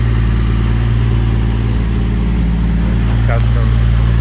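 A Toyota Supra MK3 A70 with a swapped 1JZ-GTE engine idling smoothly, a loud, steady low rumble close by with no talk.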